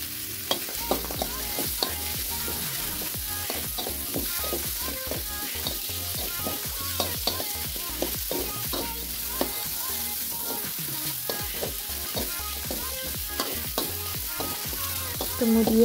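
Carrots and long beans stir-fry in a hot pan, a constant close sizzle broken by regular scraping strokes of a spatula, with no talking.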